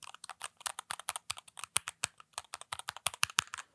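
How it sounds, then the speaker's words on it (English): Fast, steady typing on a split mechanical keyboard fitted with Gateron Yellow switches, held up close to a microphone; crisp, dense keystrokes clack in a quick, uneven rhythm with no talking. "Plus I also have Gateron yellow switches, so these sound amazing."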